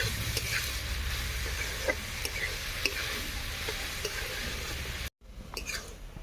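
Red amaranth leaves fry with salt and turmeric in a pan, a steady soft sizzle with occasional light ticks of stirring close by, briefly cut out near the end before resuming.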